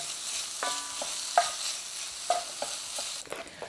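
Chopped bacon fries in a pan with a soft, steady sizzle, broken by several sharp clicks and scrapes from a utensil stirring against the pan, close by and with no one talking.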